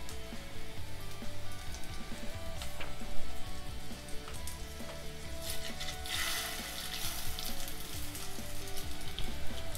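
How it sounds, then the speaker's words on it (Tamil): Chicken seekh kebabs fry in hot oil with a steady, dense sizzle and crackle that runs the whole time, rising into a brighter spitting burst near the end, with no voices. "இதையும் வந்து நான் எண்ணெயில் போட்டு ஃப்ரை பண்ண"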